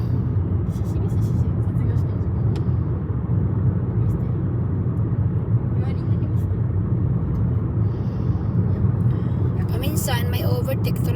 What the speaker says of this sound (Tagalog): Ang dami sasakyan no.